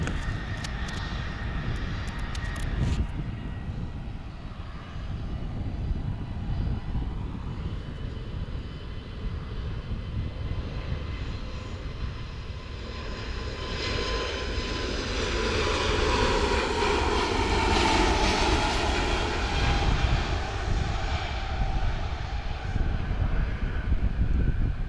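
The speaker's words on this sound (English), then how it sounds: "So this Turkish A321, he's heading back to Istanbul." Turkish Airlines Airbus A321 jet powering up and taking off, a steady broadband engine roar that swells louder and rises in pitch as the aircraft accelerates and climbs away, heard from outside the airfield.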